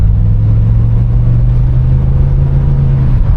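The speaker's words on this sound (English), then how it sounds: "motor sounds good" A 1987 Monte Carlo SS Aerocoupe engine idles close by with a loud, steady low rumble and even throb, running alone without voices for a few seconds.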